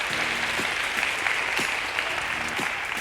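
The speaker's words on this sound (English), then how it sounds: "I love the clapping" Dense, sustained applause from a group, steady and fairly loud throughout, with no voices standing out.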